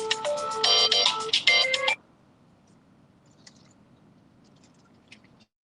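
A mobile phone ringtone plays during an online group call, a bright melodic jingle for about two seconds that cuts off abruptly, leaving faint background noise with a few soft clicks.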